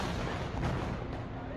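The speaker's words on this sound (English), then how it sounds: "cell phone video captured a drone exploding in mid-air" A drone exploding in mid-air above a military parade in Venezuela, recorded on a mobile phone: a dense, sustained low rumbling blast that fills the whole moment, with no distinct separate bangs.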